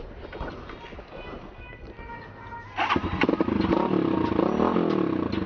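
Kawasaki Z200S motorcycle fitted with an Akrapovic Evo GP exhaust, riding: a quiet idle-like murmur gives way midway to a sudden louder, raspy engine surge that keeps running under faint road noise.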